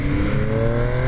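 A MV Agusta Brutale 800 triple-cylinder motorcycle engine revs with a loud, close, continuous rasping growl as the throttle is opened, pitch climbing steadily throughout.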